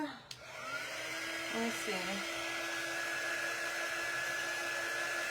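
A hair dryer spins up after a brief spoken moment and then blows with a steady, close whine while drying paint on a ghost cutout, continuous to the end.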